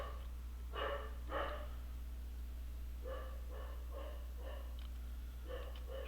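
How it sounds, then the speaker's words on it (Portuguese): Several dogs bark in short clustered volleys at a distance, faint under a constant low electrical hum, with quiet gaps between the bursts. "Os cachorros estão chamando aqui."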